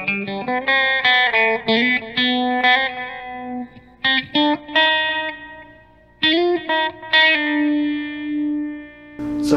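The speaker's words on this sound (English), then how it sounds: "So it has a very subtle univibe with some reverb." Electric guitar played through a NUX MG100 multi-effects unit on its Univibe Classic preset, a subtle univibe warble with reverb, strummed chords and short phrases ringing in bursts with brief gaps, close and clear.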